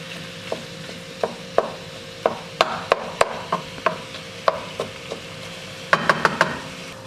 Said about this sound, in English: So as I'm mixing it, I'm chopping up the meat.